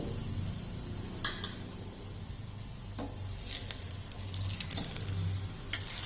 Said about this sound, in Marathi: दोन्ही बाजूनी छान अशी खरपूस आपण ही तिळपोळी भाजून घ्यायची आहे